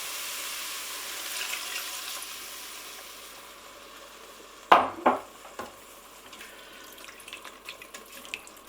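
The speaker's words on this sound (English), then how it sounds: "So you're going to add the water." Steady faint running water, then a sudden splash and a couple of clunks as water is poured into an Instant Pot for mushroom risotto, followed by light sloshing.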